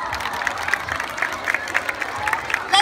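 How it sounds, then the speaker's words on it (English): Applause from an audience after a children's hula performance at a school, a steady patter of many hands clapping, moderately loud and continuous for a few seconds. "Let's give them a huge round of applause."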